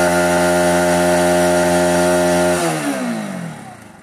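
A Bajaj Pulsar 200NS motorcycle engine held at high revs with a buzzing, harmonic-rich note, then the throttle drops off and the pitch falls away as the engine winds down, close and loud with no talking.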